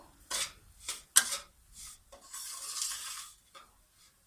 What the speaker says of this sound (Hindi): अब इस मौके पे आपने इसको तेज़ी से चलाना है हर तरफ से